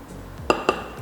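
A spoon mixes custard powder and sugar in a bowl, giving two quick bright clinks against the dish amid soft scraping, close and fairly quiet, with no talking.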